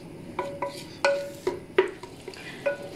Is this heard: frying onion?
yes